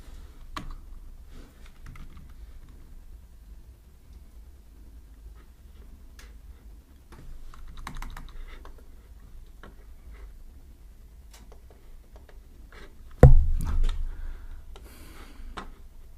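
Sparse, light clicks come from a computer keyboard as someone types at a quiet desk, with short pauses between keystrokes and one louder thump late on.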